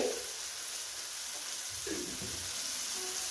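Turmeric and chilli powder frying in hot oil in a pan for a fish curry, a steady close sizzle hissing throughout with occasional soft scraping stirs.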